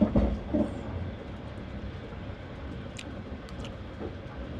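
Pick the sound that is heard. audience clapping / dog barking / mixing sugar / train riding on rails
train riding on rails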